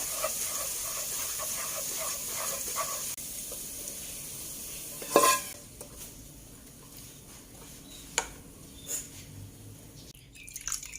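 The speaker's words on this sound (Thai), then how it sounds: "เอาไปคั่วด้วยค่ะ เพื่อเอาน้ำมันพริกหอมๆนะคะ" Ground dried chili roasting in oil in a pan gives a soft, steady sizzle and hiss throughout, with a few sharp clinks and scrapes of stirring standing out, close but fairly quiet with no talk.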